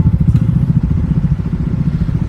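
A motorcycle being parked, its engine close and loud with a low, rumbling, idling pulse and some clatter over a couple of seconds.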